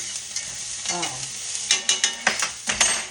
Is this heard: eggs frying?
yes